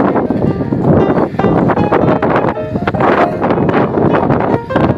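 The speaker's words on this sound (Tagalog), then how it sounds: "medyo malakas ang hangin" Strong wind buffets the microphone with loud, continuous rumbling gusts that overwhelm everything else.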